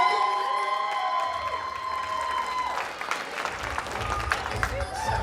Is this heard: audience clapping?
yes